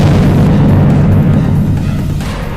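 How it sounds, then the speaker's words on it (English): A deafening explosion in a hotel, rendered as a loud sustained rumbling boom with a heavy low roar that slowly fades over a couple of seconds, no voices. "The explosion that follows is deafening,"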